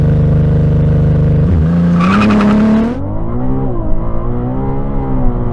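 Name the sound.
Ferrari sports car launching at full acceleration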